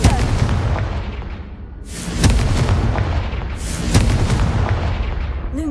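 Blasting spell explosions in a Hogwarts video game: two deep booming blasts roll out one after another, each fading into a long rumbling tail, loud and close, with little speech over them.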